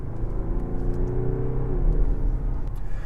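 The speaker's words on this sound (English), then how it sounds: "In sport mode, you do hear the engine a bit more because there are a bit more revs." Engine of a 2023 BMW 740d in sport mode, a steady low rumble with a faint rising rev midway, heard continuously at moderate level without talk.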